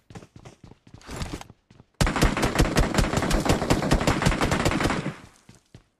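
Gunfire in a shooting video game: a few scattered single shots, then a loud, sustained rapid automatic burst lasting about three seconds before tapering to a couple of final shots.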